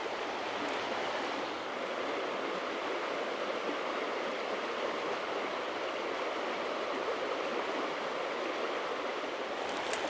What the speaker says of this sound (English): come and look at the river